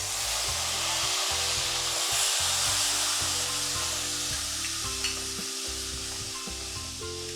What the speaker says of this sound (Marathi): अशें हलयत रावपा जाय.